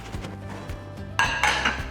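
Plates and cutlery clink and clatter as they are lifted out of a Bosch dishwasher, soft handling sounds giving way to a louder burst of ringing dish contacts near the end, with no talking.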